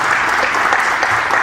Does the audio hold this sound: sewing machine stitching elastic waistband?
no